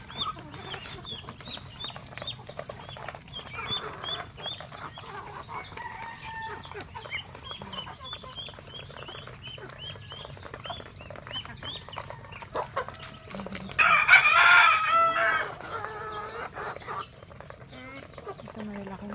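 Chickens and ducks at feeding time, clucking and calling continuously nearby with a brief loud rooster crow partway through, while people talk in the background.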